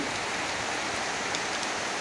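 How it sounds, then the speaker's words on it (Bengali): Steady rain falling on a rainy day, a dense, even hiss of drops on surfaces that stays constant and fairly close, with no voices. "বৃষ্টির কি সুন্দর আওয়াজ এই বৃষ্টির আওয়াজটা শুনতে কিন্তু অনেক ভালো লাগে"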